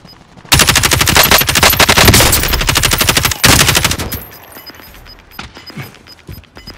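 Incoming gunfire in the video game Call of Duty Modern Warfare: loud, rapid automatic bursts hammer nearby for about three and a half seconds with a short break, then fade to quieter shuffling and distant sounds.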